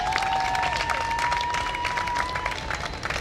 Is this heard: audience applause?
yes